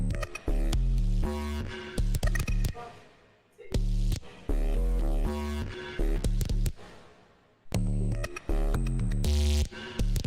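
A glitched sequence of sorted audio clips plays as loud, choppy bursts of tonal and buzzy fragments, abruptly cut and stuttering, with brief drops to near silence between sections.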